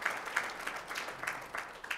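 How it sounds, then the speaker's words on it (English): Scattered, faint applause from a small audience honoring sponsors at a horticultural sciences event, a thin patter of a few hands clapping at a distance for a couple of seconds. "Another round of applause for them."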